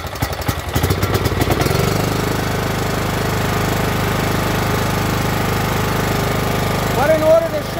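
A faulty John Deere engine with smoking wires keeps running, first chugging in uneven knocks and then settling into a loud, steady idle drone up close, with someone talking over it.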